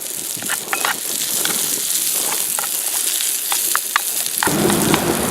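Scrambled eggs and onions frying in a pan outdoors on the trail, a steady close sizzle with scattered crackles and pops throughout.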